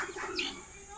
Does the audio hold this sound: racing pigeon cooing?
yes